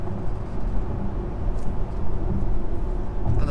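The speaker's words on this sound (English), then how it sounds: "Plant your foot, comes in fairly quickly. And once it comes in, it is mighty. This thing accelerates very quickly." A 2019 Audi Q7 50 TDI diesel SUV accelerates hard, heard from inside the cabin as a steady low engine drone and road rumble at moderate loudness, with no talking.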